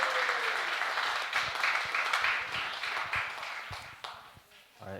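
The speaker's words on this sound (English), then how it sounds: "Let's give him a round warm of applause." An audience at an intergenerational church service and birthday celebration claps to welcome a young speaker named Keita, a full round of applause that slowly thins and tapers toward the end.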